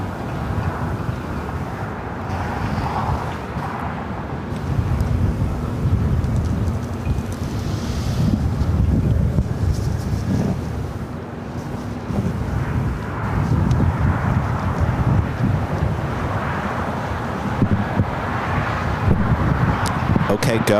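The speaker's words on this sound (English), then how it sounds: "we've got the EVA, the 777-300ER. Next takeoff here on the south side." An EVA Air Boeing 777-300ER takes off on the south side at LAX, its engine roar a broad low rumble swelling and fading over gusting wind noise while people talk nearby.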